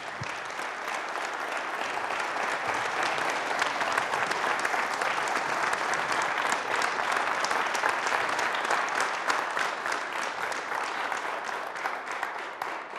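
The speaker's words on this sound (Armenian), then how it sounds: "Եկեք բոլորս հարգանքով ծափահարենք նրան" Sustained applause from a television studio audience, dense and steady for about thirteen seconds, with no speech over it.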